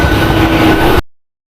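A Jaynagar-bound train pulls in at platform 2 with a loud, dense rumble of rolling wheels, cut off abruptly after about a second.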